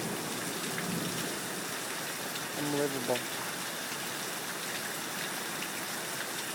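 Heavy rain pours down steadily in a constant, close wash of noise, with a brief man's exclamation partway through and a few faint bird chirps around the middle.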